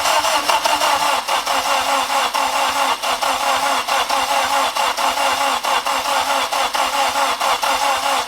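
Starter cranking on a turbocharged 8th-generation Honda Civic, a steady loud rapid whir with regular pulses, the engine turning over continuously close by without yet settling into an idle.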